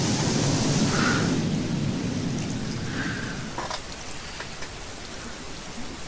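Steady rain hissing on a surface, loud at first and then thinning out as the shower passes, with a few faint drip-like taps near the end; no talking.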